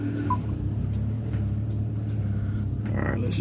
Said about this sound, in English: Go ahead and take the car out of here.